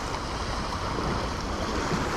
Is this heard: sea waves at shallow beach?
yes